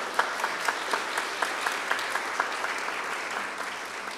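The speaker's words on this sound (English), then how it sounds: "a round of applause everywhere I go" Audience applause at a 45th anniversary celebration, moderately distant steady clapping with a few sharper individual claps standing out.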